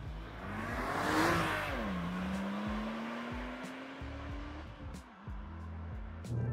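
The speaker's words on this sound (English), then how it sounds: "it's a noise that clearly isn't naturally aspirated, and that, to me, is a very menacing, purposeful noise" A Porsche 996 Turbo engine revs on the road, its pitch climbing and dipping as it pulls through gears with a turbocharged rush, moderately loud and close, alone.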